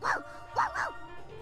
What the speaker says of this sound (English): That howl. Cerberus? Is that you, Cerberus?